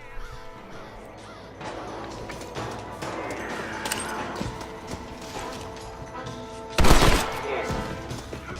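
A single loud gunshot cracks out in the Old West world of Red Dead Redemption, a sharp burst standing out against a backdrop of horse hooves clip-clopping and crows cawing.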